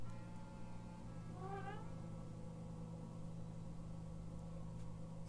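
A single drawn-out meow from a small cat, faint and set well back against a steady low hum, heard alone without talking.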